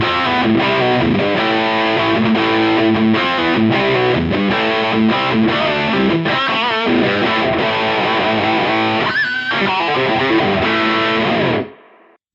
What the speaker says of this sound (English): If you go onto the hard clipping mode, you push the drive and you hit it with some boost in front, you can get pretty heavy with this thing.